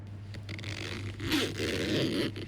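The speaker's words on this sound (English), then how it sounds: "And now I have a pretty happily EQ'd zipper pull." A clothing zipper is pulled in a short, close scraping stroke. The recording is equalized studio audio, with the rasping teeth heard clearly alone.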